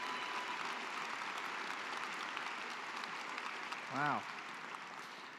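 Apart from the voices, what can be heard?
audience applause at graduation ceremony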